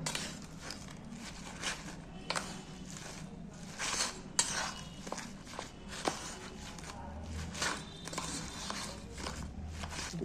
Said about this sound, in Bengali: এবার আমি এটাকে ভালো করে মেখে নেব।